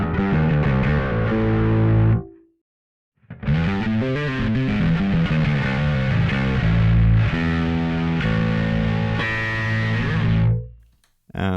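Bass guitar played through a Darkglass Microtubes Infinity preamp, loud distorted chorus-tinged riffs in sustained phrases, with a brief pause after two seconds and a fade near the end.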